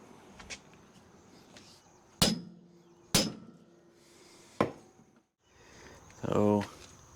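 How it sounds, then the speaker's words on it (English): A 20-pound sledgehammer with a short handle strikes metal flat during a skid steer weld repair, landing three heavy, separate, ringing blows close by, with quieter handling noises between them. "it was a 20-pound sledgehammer with a little tiny handle"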